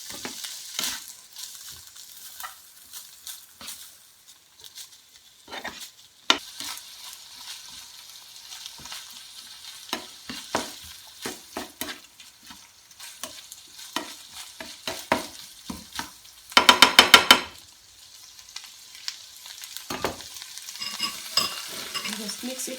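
Leftover food, ground pork (giniling), being stirred and warmed in a pan before beaten egg goes in, with scattered scraping clicks and light sizzle and a brief louder burst of stirring near the end.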